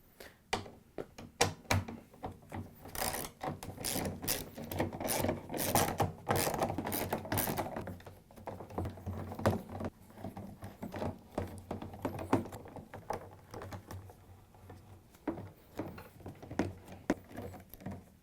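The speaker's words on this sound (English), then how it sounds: "we're going to take our 10mm socket and go around and take all the screws out." A 10mm socket backs the screws out of a Samsung washer tub, giving repeated ratcheting clicks and metallic rattles in irregular bursts that sound close and fairly loud, with no speech.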